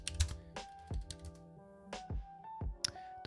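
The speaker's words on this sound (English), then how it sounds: "I guess I'll type it the way" Bursts of typing on a computer keyboard, irregular clusters of light key clicks with short pauses between them, close and quiet with no speech.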